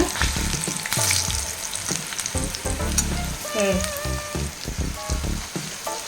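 Vegetarian nethili-style fry crisping in hot oil, a loud, steady sizzle with bubbling crackle and occasional clinks of a utensil stirring, close up and with no voices.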